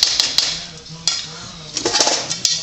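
A spoon stirs flour into pumpkin spice bar batter in a bowl, giving irregular sharp clinks and scrapes against the dish, with quieter stretches between bursts of stirring.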